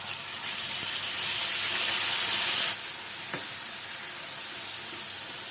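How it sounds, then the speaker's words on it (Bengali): Tomato and green chili paste frying in hot oil in a pan, a steady close sizzle and hiss that grows louder for a few seconds, then eases to a softer, continuous crackle. "টমেটো কাঁচা লঙ্কা বাটাটা দিয়ে একটু কষিয়ে নেব"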